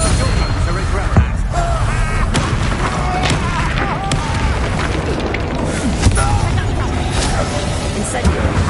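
Fire and blast spells going off in the Hogwarts Legacy video game, a dense wash of rumbling booms and thuds with a few sharper bursts, mixed under frequent game voices and battle noise.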